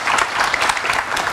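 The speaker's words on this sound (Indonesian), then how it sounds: "Tepuk tangan yang meriah untuk narasumber saya" A studio audience at a televised political talk show applauds in a dense, continuous wash of many hands clapping, loud and steady with no voices standing out.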